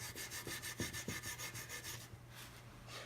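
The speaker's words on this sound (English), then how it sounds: "just keep on putting boiled linseed oil on it until it stops soaking in" A rag rubs boiled linseed oil into the wooden body of an early 19th century jack plane, with a series of rhythmic close scrubbing strokes, followed by a softer, more sparse stretch of rubbing.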